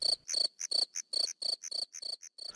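A cricket chirps in a steady, even rhythm of short, bright pulsed trills, repeated about a dozen times. It is close and clear against a silent background.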